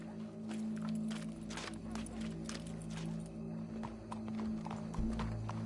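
Steady clip-clop of horse hooves walking in the video game Red Dead Redemption 2, repeated rhythmic strikes over a constant low hum and background tones.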